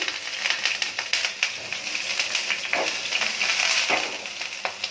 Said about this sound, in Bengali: বেগুনটা ভেজে নেব